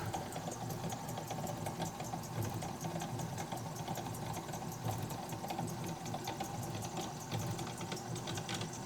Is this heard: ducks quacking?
no